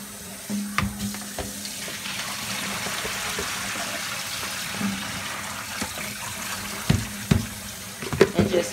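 Mixed greens are washed under a running kitchen tap, water splashing steadily into a sink close by, with clattering bumps and handling noises growing more frequent toward the end.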